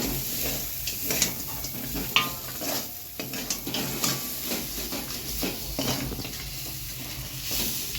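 A fish head dropped into spiced, fried masala in a pan sizzles steadily up close, with repeated scraping and clinking of a spatula stirring through it.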